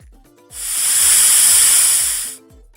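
A loud, steady high-pitched hiss of a pressure cooker whistle blows for about two seconds, then cuts off, with quieter background noise before and after.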